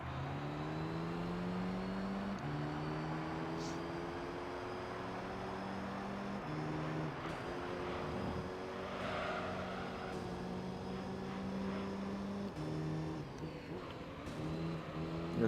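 Race car engine in Gran Turismo 3 during a two-lap race, revving up through the gears with repeated rising whines and shifts, dipping under braking into corners, loud and close without talk.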